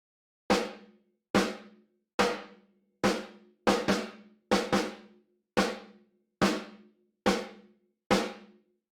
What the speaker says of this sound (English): So just without everything, snare sounds like this.